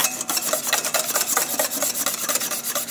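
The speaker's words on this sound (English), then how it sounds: "you don't have to worry about stirring it as vigorously as I'm doing right now" A whisk or spoon scrapes quickly and rhythmically through a thick egg-and-butter sauce, producing close, rapid rasping strokes with no talking.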